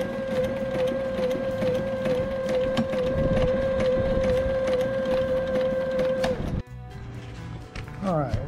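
A sewing machine stitches a sailboat hatch screen cover in a steady whirring run with a sustained whine, close and loud, then stops abruptly near the end, followed by a brief rustle of fabric.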